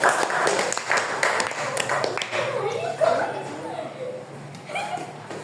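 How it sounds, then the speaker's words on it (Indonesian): Students in a classroom clap for a presenting group, scattered brisk claps mixed with chuckles and voices talking over them. "tepuk tangan untuk kelompok 3"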